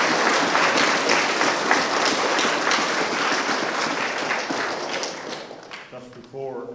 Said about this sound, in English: I'd like to another round of applause